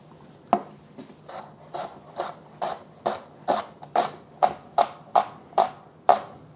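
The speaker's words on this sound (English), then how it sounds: "I am cutting up one shallot." Knife slicing one shallot into strips on a board, a steady series of about fourteen crisp, close cutting strokes that grow slightly louder and quicker, with no talking.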